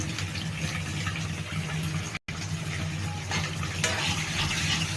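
Spices mixed with chilli powder are stirred in a hot pan, a continuous close sizzle with scraping stir sounds and a brief cut in the middle, no one talking.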